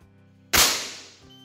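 A Stoeger XM1 air rifle fires once on a range fitted with chronographs at the muzzle and at 25 meters: a sudden loud, sharp crack that decays over about a second, heard alone with no talking.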